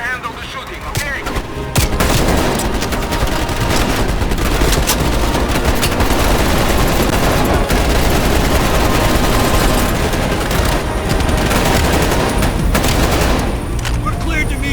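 Sustained heavy gunfire from a helicopter in Black Ops Cold War, loud and continuous bursts of automatic fire with booms throughout, nearly unbroken for the whole stretch.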